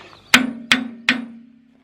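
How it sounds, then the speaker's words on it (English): Three firm metal-on-metal hammer blows strike a soft metal tractor part, evenly spaced and close, each with a short ringing tail that fades into quiet. "I'm not hammering it very hard, but it's denting pretty easy"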